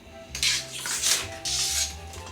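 Food being scooped into a container at a kitchen counter: a few scraping, clinking contacts of a utensil against the container, close and moderately loud, with no talk.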